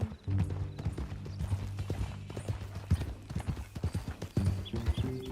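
Horse hooves clip-clop steadily in Red Dead Redemption 2 on a ride to the Beecher's Hope ranch, a rhythmic close trot over a low, humming background.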